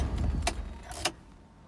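A Mazda MX5 MK1 engine idles with a low rumble that cuts out after about a second, followed by a couple of sharp mechanical clicks and then near silence.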